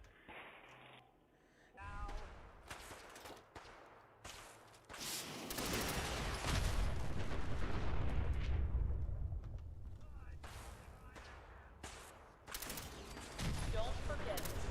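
Fireworks at Fallout 4's Fizztop Mountain go off in a string of loud booming blasts and crackling bursts, some overlapping into a sustained roar, with occasional game voice in between.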